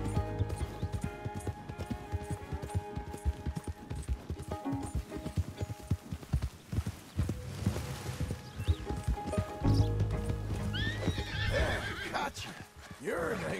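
Hooves clop in quick irregular beats in Red Dead Redemption 2, then a horse lets out a loud whinnying neigh near the end, with a voice talking over parts of it.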